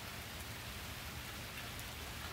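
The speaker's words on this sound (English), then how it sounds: "Dude, look at the rain." Heavy rain pours steadily during a rainy-day downpour, a dense constant hiss close by with no breaks and no voices.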